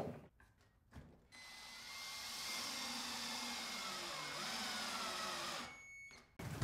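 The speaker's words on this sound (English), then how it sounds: "we're just gonna drive a Kreg Jig screw right in" A drill drives a Kreg Jig pocket hole screw into a wood joint made with a Kreg Jig 310, whirring steadily for about four seconds at close range, with brief bursts of handling noise before and after.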